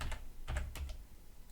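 Someone types a password on a computer keyboard: a short run of quick key clicks, close and distinct, with no talking.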